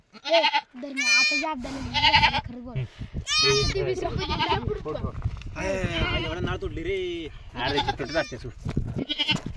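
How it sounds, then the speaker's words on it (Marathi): A goat that has just given birth bleats repeatedly up close, wavering cries coming one after another, with people's voices mixed in among them. "तुम्ही पाहू शकता आपण शेळीची डिलिव्हरी केलेली आहे"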